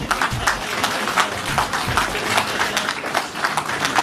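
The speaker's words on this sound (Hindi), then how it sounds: "तो जोरदार तालियों से हमारे मुख्य अतिथि जी का स्वागत किया।" Audience applause welcoming the chief guest at a Dogra community foundation day cultural event, a steady, dense wash of clapping from a crowd lasting throughout, with faint voices mixed underneath.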